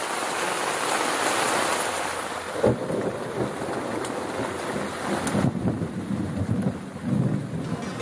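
Rain pelts a camping tent during a thunderstorm on a cycling trip in Thailand, a dense wind-buffeted hiss broken by low rumbles and sharp cracks of nearby thunder.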